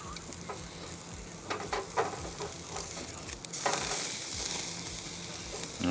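Asparagus sizzles and crackles on a Monument G22 portable grill at a campground, a steady close frying hiss broken by brief scraping bursts from a utensil being stirred and moved.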